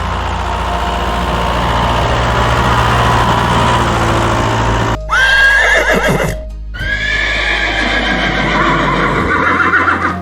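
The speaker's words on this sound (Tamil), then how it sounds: "இது ஒரு குதிரை. காற்றை போல வேகமா ஓடும்." A horse at a farm gives a loud whinnying neigh midway, set against a steady low engine-like drone and some clip-clop of hooves, with no one speaking.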